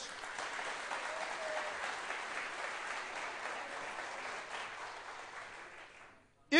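Audience applause at a live evening broadcast in Çorum, Turkey, a steady dense wash of clapping that holds for several seconds, then fades out at the end as a brief sharper sound cuts in.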